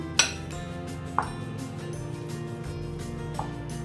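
Boiled potatoes are mashed with a metal masher in a pot, bringing a few sharp clinks of metal on metal, one loud at the start and softer ones later, over a steady low kitchen background with no talking.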